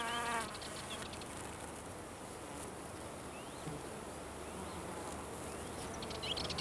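A male wasp buzzes steadily around a wild Ophrys orchid, a close, continuous droning hum that lasts throughout with no voices.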